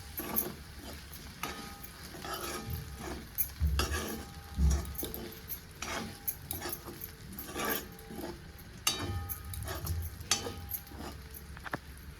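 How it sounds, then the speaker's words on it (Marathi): Okra and potato sabzi mixed with crushed peanut powder in a pan, stirred with irregular scraping, clinking and knocking of a spoon against metal over a faint, low sizzle, with a couple of heavier thumps. "एक चार चार चमचे शेंगाचं कूट मी वापरणार आहे आणि आता मिक्स करून घेणार"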